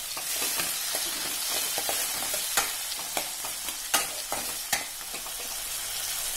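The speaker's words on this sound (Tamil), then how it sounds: "இப்ப வெங்காயம் தக்காளி நம்ம சேர்த்து நல்லா வதக்கியாச்சுங்க." Onions and tomatoes being sautéed in a pan for a drumstick, mango and brinjal sambar give a steady close sizzle, with occasional sharp clicks and scrapes from stirring.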